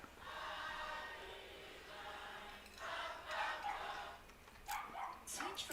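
A dog barks and whimpers faintly in the distance, a few short yips near the end over a hissy background.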